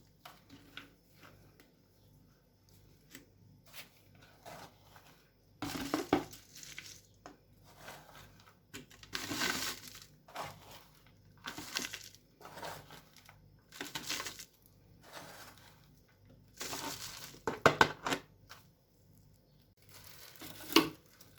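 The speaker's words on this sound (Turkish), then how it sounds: "Kapak kısmından hemen toprağımızı ilave ediyoruz." Potting soil poured and pressed into a cut PET bottle planter for cucumber seedlings: intermittent soft crunching, rustling and crinkling bursts of plastic and earth, close and fairly quiet, separated by near-silent pauses.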